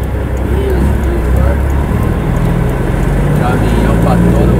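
Loud, steady road rumble from heavy traffic full of trucks on a busy highway, heard from inside a moving vehicle, with a voice speaking over the drone.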